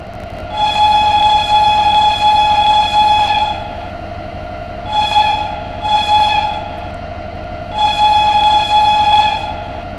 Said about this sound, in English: the whistle on the BR110/3 is reused from the BR420 unit in Train Simulator